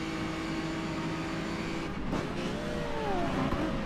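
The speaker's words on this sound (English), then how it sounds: "Whoa, that was a peak of revs." A silver Maserati race car engine revs hard at a historic racing event, a loud, continuous close-up roar that climbs in pitch toward the end.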